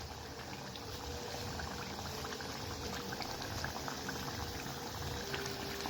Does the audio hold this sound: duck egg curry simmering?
yes